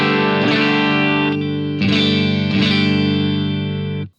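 A clean electric guitar tone runs through a Soldano SP77 preamp into a greenback-loaded 4x12 cabinet. Three strummed chords ring out loud and sustained, each left to decay before the next, with no talking.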